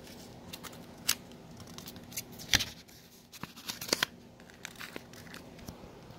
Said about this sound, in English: You're going to wrap this up just like a little present.